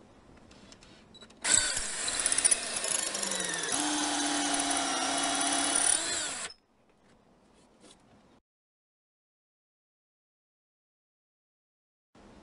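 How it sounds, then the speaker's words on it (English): A power drill bores into a door to fit a security latch, one loud sustained burst of about five seconds with a brief pitch change, then near silence with faint handling. "You want to make sure you hold your drill level so that"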